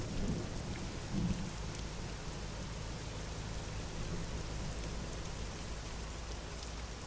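Steady rain patters down in the video game American Truck Simulator, with low thunder rumbling underneath, including a fuller swell near the one-second mark, all heard quietly and without voices.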